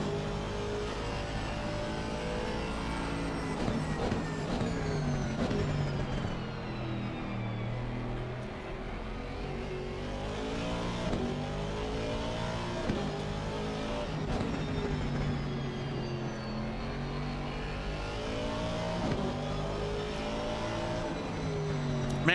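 Race car engine heard from the passenger seat on track at Laguna Seca, loud and continuous, revving up and down through gear changes with rising and falling pitch sweeps for the full stretch, no talk over it.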